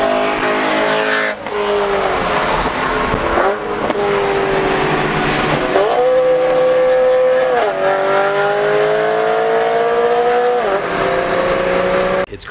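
A BMW E92 M3 engine roars steadily at high revs, its pitch climbing and dipping as the car speeds past at close range, with tire noise mixed in.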